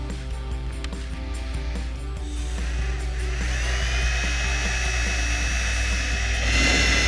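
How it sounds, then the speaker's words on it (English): A power drill boring a 3/8 inch hole through a carbon fiber hood on a 2018-2023 Mustang GT, the motor whine rising in pitch and staying loud and continuous as the bit works through. "So we're just going to drill a 3/8 inch hole right here and feed the hose through there."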